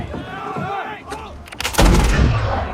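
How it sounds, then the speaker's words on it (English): Ship cannons fire in an animated sea battle: shouted voices come first, then sharp cracks and one heavy boom that rolls into a low rumble, loud and near. "Hurry up, fire the cannons!"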